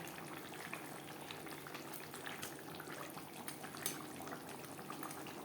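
A silver carp fish curry with potatoes simmering in its gravy, giving a quiet, continuous bubbling hiss with soft pops and a faint crackle, heard alone and steady.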